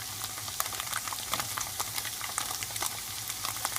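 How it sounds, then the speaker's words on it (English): Zucchini and tofu frying in a pan for vegetarian fried rice, a steady close sizzle with scraping stirs and clicks of the utensil against the pan, no talking. "I'm going to put the zucchini in there so we can get the zucchini cooked and everything"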